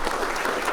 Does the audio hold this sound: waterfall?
no